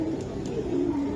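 An old-bloodline Hericane male pigeon and a red khaki female coo in low, rolling, continuous tones, close and steady with a couple of faint sharp clicks.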